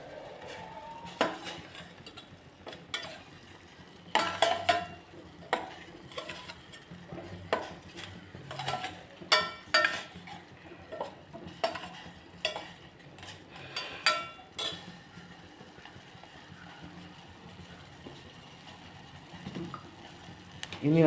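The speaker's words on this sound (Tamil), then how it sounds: "இஞ்சி அதையும் போட்டு மிக்ஸ் பண்ணிடலாம்." A spoon clinks and scrapes against a pot while ginger is stirred into simmering masala tea, giving irregular metallic taps and swishes, fairly quiet and close.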